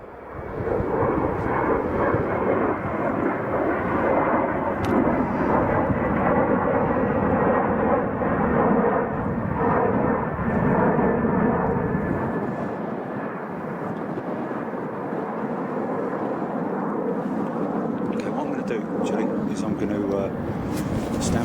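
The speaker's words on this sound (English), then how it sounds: "look at that little Embraer in the Bandit livery" A small Embraer jet in Bandit livery at Chicago O'Hare gives a loud, sustained roar of jet engines. The noise dominates at first and then slowly fades, with someone talking over it.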